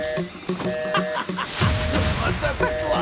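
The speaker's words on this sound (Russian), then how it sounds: "Вот это классный выстрел!" A gunshot in a 2024 crime thriller movie trailer: one sharp, loud burst partway through, set among a music score and dialogue spoken in Russian.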